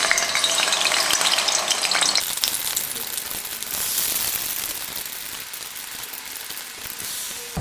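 Batter-coated banana fritters (pazhampori) fry in hot oil, a loud, continuous crackling sizzle close by that eases slightly after the first couple of seconds, with no talking.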